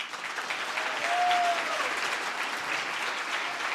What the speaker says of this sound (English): a huge round of applause for our panelists here